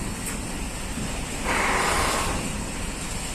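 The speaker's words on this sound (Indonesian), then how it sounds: "Anginnya juga udah lumayan kencang." Strong wind roars across open sea during a night ferry crossing in big waves, swelling into a stronger gust midway, with a constant wash of surf underneath.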